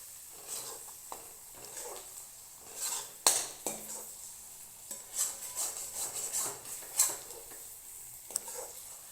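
Mushrooms stir-fried dry in a pan without water, a spatula scraping and clinking against the pan in irregular strokes over a faint background sizzle.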